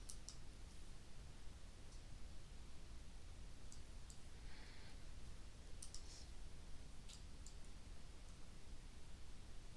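A computer mouse clicks while running a simulation in IGEMS CAD/CAM software for a helical pinion wrench: a handful of faint, sharp, sparse clicks over a quiet background hiss.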